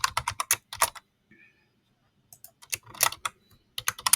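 Computer keyboard typing as code is entered, with two bursts of quick, close key clicks separated by a short quiet pause.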